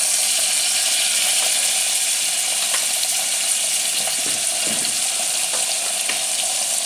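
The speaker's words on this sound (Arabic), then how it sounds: "في العاده انا نبغي نصب السمن وشويه زيت والبصل وراني نقلي فيه" Onions frying in ghee and a little oil in a pan, a loud continuous close sizzle with light clicks and scrapes, no voices.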